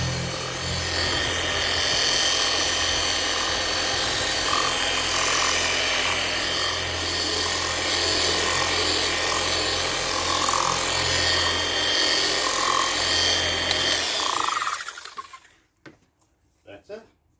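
A machine polisher fitted with a soft pad buffs a car headlight, a steady loud motor drone with rubbing texture lasting about fifteen seconds before it winds down, followed by a few faint clicks.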